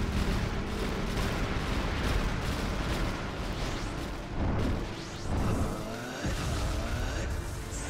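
Rapid, bursty gunfire and explosive impacts from the Naruto Ultimate Storm 4 fighting game, dense and loud, layered with whooshing effects and rumbling booms in an unbroken chaotic barrage.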